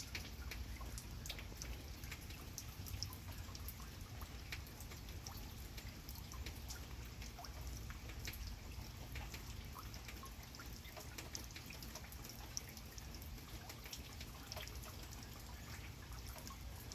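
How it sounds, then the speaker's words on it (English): Steady rain patters outside near a hummingbird feeder, a soft continuous wash of drops and drips with faint ticks scattered through it, even and unbroken with no voices. "I just wanted to share our beautiful rain."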